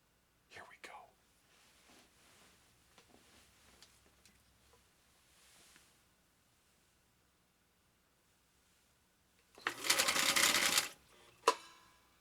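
A Husqvarna Viking sewing machine, restored on a workbench, runs in one short burst of rapid stitching after a stretch of quiet handling sounds and a few soft whispers.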